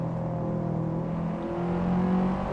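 Subaru WRX on a race track, engine droning steadily with tonal harmonics that rise slightly as it accelerates, loud and close throughout with no talk.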